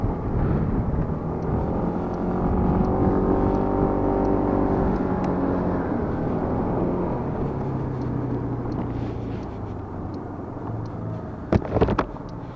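A Yamaha Cygnus 125 scooter idles with a steady, even engine drone close by, no one speaking; a short burst of clatter comes near the end.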